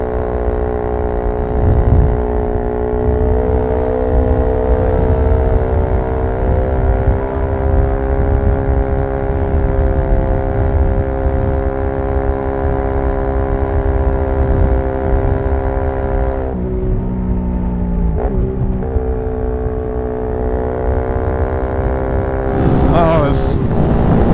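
Motorcycle engine drones steadily through a ride on a daily commute, with a sustained harmonic tone, a brief drop in revs near the end and a voice talking over it.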